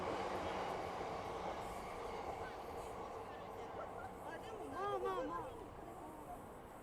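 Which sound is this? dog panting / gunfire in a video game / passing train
passing train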